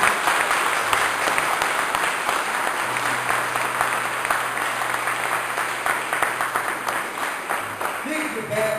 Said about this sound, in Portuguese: dá um forte aplauso ao Senhor.